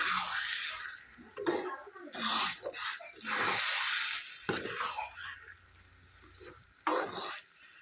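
Khichuri is stirred in a pot, giving soft scraping and sizzling bursts at irregular intervals, close by, while a person speaks in between.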